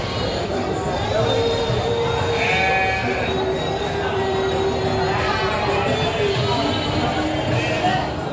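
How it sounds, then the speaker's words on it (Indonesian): Sheep bleating among the din of a livestock market in Tanjungsari, Sumedang, with a few bleats rising over a constant crowd murmur and nearby talk. "Keren sekali dombanya."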